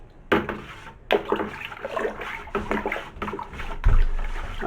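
Apple juice being stirred in sanitized equipment for homemade cider, repeated close sloshing and swirling splashes in irregular surges.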